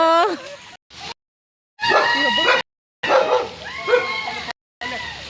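An Udupi dog gives short bursts of yelping barks and whiny yips, close by, broken by brief silent gaps, with people talking around it.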